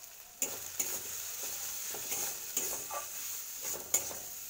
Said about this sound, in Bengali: এবার মশলাটাকে একটু কষিয়ে নেব।